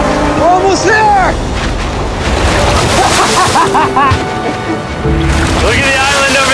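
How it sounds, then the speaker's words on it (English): Big ocean waves rolling toward a boat near an island, a loud continuous rush of surf and wind noise on the microphone, with people talking over it. "Those waves look really big over there, and they're coming right at us"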